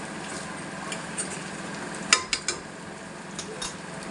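Maggi noodles being stirred in a pan over a soft background sizzle, with a few sharp utensil clinks against the metal near the middle, close and without speech.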